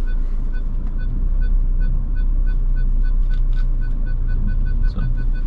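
A vehicle's reversing alarm sounds as a steady series of regular high beeps over a continuous low engine rumble, heard from inside a car on a driving test.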